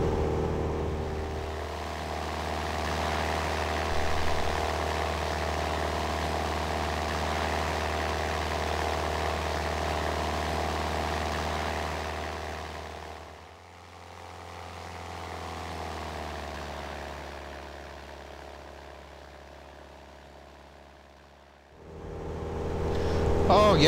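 A Cessna 172 propeller plane takes off in AeroFly FS2, its engine drone steady and fairly loud, dipping briefly midway and then returning strong near the end.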